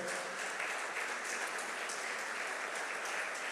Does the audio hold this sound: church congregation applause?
yes